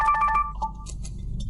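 Incoming call ringtone on a phone, a few quick electronic tone bursts in a rhythmic pattern at the start, followed by quieter background rumble.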